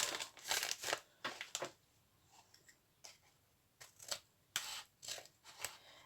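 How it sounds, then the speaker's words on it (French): Quiet scissor snips and crisp paper rustles come in short bursts, several cuts in quick succession with brief pauses between. "Ciseaux."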